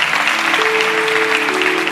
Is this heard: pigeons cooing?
no